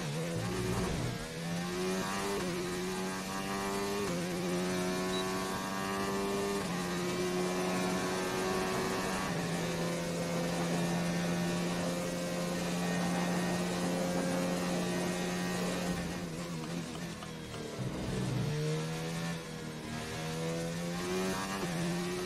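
Formula 1 car engine in the F1 2019 racing game at Spain, a steady high-pitched whine held through one lap, rising and falling with gear shifts and dipping briefly under braking before climbing again, heard alone without talk.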